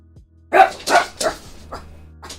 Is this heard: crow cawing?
no